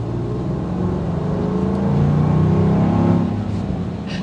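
A 2023 Land Rover Defender V8 accelerates hard, its engine note a loud, continuous roar that swells toward the middle of the run and holds strong to the end, with no voices over it.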